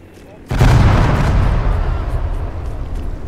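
A bombing run in the World War II shooter game 82AD Liberation sets off a sudden, loud explosion that bursts in and then rolls into a long, heavy rumble that slowly fades.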